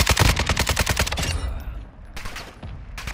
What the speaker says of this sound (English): Where the fuck am I getting shot from?